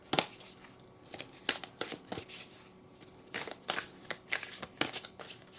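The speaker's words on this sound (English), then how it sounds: "So let's shuffle." Moonology oracle cards are shuffled by hand close up, a series of quick, crisp riffling and flicking bursts arriving in irregular clusters against a quiet background.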